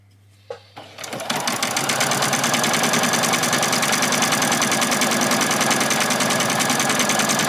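A sewing machine stitching a doll's dress starts after a couple of clicks and runs into a loud, fast, steady mechanical whir, close up and continuous.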